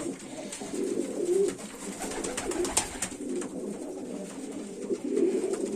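Broad-tailed pigeons coo repeatedly in soft, low throaty calls, several birds overlapping nearby, with occasional fluttering and rustling in the background.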